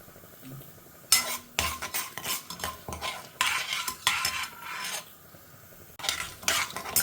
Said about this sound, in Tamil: எண்ணெய் சுட்ட கையோடு நம்ம கடுகு, உளுத்தம்பருப்பு, கடலப்பருப்பை தாளிச்சிக்கலாம். பொரியட்டும்.